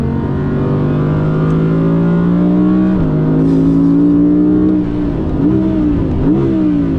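Audi R8 GT with a 5.2-litre V10 accelerating hard from the cabin, its loud, rising engine note climbing through gears with short dips at the upshifts and no talking.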